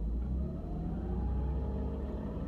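A Nissan 370Z engine revving up steadily, its pitch climbing smoothly over a low, rumbling idle, close and fairly loud.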